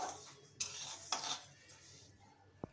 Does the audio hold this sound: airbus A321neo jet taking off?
no